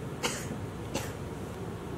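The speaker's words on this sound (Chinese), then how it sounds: "妈，你怎么还咳嗽啊？" An elderly mother coughs indoors, two short, muffled coughs about a second apart, fairly close over a low background rumble.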